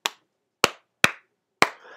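Four sharp hand claps close by, spaced unevenly with short gaps between them, each a crisp smack with quick decay, followed by faint rustle at the end.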